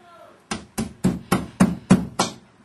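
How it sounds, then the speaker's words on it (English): A hammer drives a nail through drywall into a wooden stud with seven sharp, evenly spaced strikes, close and loud, after a moment of quiet. "you can use a hammer or nail and just keep hammering in until the nail goes off the stud"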